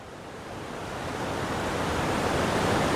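The Gosthani river, running low, flows through a cave as a steady, broad rushing wash that grows slightly louder and fills the space evenly, with no talking.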